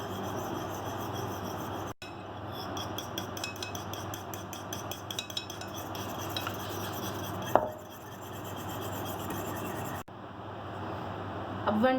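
A batter mixture for powdered-milk gulab jamun being mixed with a spoon in a bowl, giving a steady close scraping and rubbing with faint metallic clinks, broken by brief pauses.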